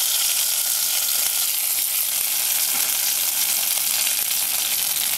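Garlic, red chilli, cumin and mustard seeds tempered in hot oil and poured into moong dal, giving a loud, continuous hissing sizzle that holds steady for several seconds with no voices.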